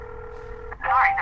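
A triple line phone dialer places a call: a steady dial tone holds, then breaks into a brief, louder burst of dialing tones, close and clear.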